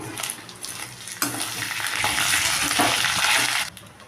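Chicken fries with ginger garlic paste in a pan, giving a loud, rising sizzle that surges after a sharp clatter and fades abruptly at the end.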